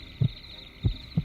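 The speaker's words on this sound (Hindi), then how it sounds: "उसके दिल की धड़कनें उसके अंदर की घबराहट को साफ बयां कर रही होती हैं" Heartbeat sound effect under a crime story narration: three deep, muffled thumps with a steady throbbing rhythm over a faint constant hum, no voice.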